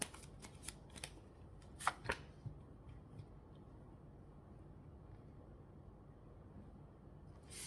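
Tarot cards are shuffled with a handful of soft, quick riffling flicks near the start. The flicks then fade into a faint, quiet room with a final brush at the end.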